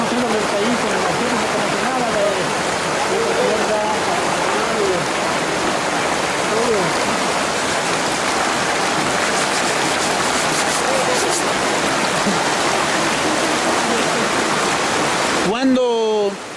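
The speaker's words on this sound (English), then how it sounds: "The water is cold and fast." Cold, fast-flowing highland stream rushing steadily and close, a dense continuous wash of water noise throughout, with brief faint voices and a short disturbance near the end.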